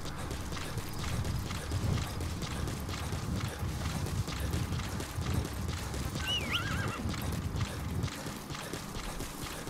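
D-Horse, the horse in the Metal Gear Solid V video game, whinnies over a steady bed of clip-clopping hooves and wind noise, loud and continuous with no talking.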